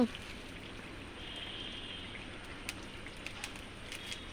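Steady light rain patters outside a home kitchen, a soft even hiss with occasional faint drips, fairly quiet and unbroken by speech.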